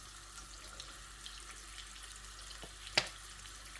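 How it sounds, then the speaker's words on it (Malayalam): Sunflower oil poured into a pan with melted butter, a soft continuous trickle and faint sizzle, close but quiet, with one brief louder clink near the end. "അതിൻ്റെ കൂട്ടത്തിൽ തന്നെ ആവശ്യത്തിന് സൺഫ്ലവർ ഓയിൽ ഒഴിച്ചു കൊടുക്കാം."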